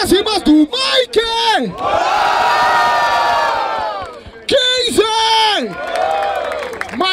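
A crowd at a Brazilian rap battle in Barueri roars and cheers for a rapper, with a long swelling wave of shouting voices between loud, close calls from an emcee on the mic.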